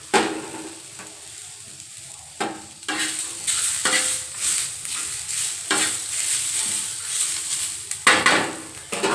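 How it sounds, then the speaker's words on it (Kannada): Capsicum and coconut roast in a pan, a quiet sizzle punctuated by irregular bursts of scraping and stirring, growing busier toward the end. "ನೋಡಿ ಇದೆಲ್ಲ ಹುರಿಯಾತೈತಿ."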